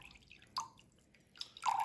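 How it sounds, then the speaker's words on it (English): Water drips and trickles out of the drain vent of an esky cooler in a few faint, irregular splashes, ending in a short pouring burst. "So we're draining a bit of water out the esky now, out the vent"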